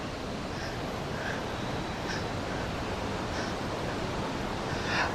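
Water running steadily in a small stream in North Bali, a broad constant rush with no breaks and a few faint brief chirps above it.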